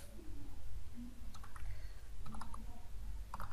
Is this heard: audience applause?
no